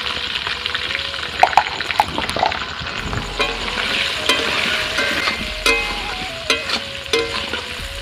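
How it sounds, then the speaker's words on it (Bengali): Pointed gourd slices dusted with turmeric sizzle steadily in hot oil in a pan, with loud clacks and scrapes of a spatula stirring them close up. "এখন আমি পটলটা ভাজা করছি পটলটা একটু তেলে ভালো করে ভাজতে হবে"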